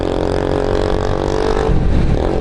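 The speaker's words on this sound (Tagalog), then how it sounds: "ito pa isang magandang motor" A motorcycle revs hard as it passes close by on a street, a loud continuous roar rising slightly toward the end, with no voices.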